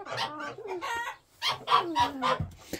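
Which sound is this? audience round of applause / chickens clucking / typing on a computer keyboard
chickens clucking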